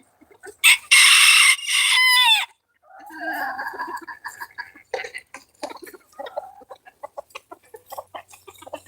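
A flock of startled chickens: a loud rooster crow up front, followed by a scattered run of sharp, fairly close clucks and squawks continuing to the end.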